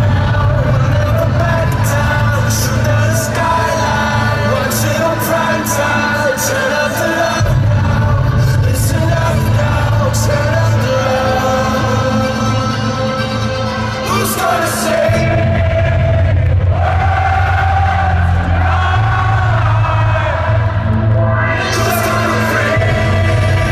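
Arena crowd at a concert singing along with the loudspeaker vocals pulled down, a loud sustained mass of voices over a pounding bass beat, with scattered yells and whoops.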